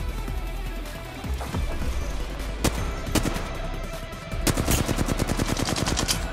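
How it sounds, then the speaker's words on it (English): Gunfire in the battle royale game Apex Legends: loud, close bursts of rapid automatic fire with scattered single cracks, ending in a dense sustained volley. "Come on, shoot with me."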